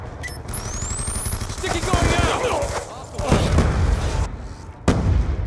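Scorpion submachine gun firing in Call of Duty: Black Ops 2, with rapid game gunshots and impacts in short bursts mixed with other battle noise, heard under someone talking throughout.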